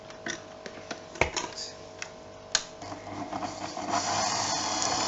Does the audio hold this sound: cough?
no